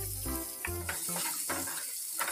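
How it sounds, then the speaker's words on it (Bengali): Beans, capsicum and carrot frying in hot oil in a kadai, a steady close sizzle with soft stirring clatter and scrapes throughout. "এখন ওই একই তেলে বিনসগুলো ভেজে নেব।"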